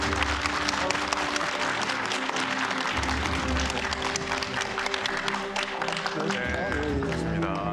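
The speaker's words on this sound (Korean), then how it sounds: "여러분의 박수와 환호로 모시도록 하겠습니다" Outdoor audience at a televised county town-hall event in a sports park applauding and cheering, a steady dense roar of clapping over music with sustained tones throughout.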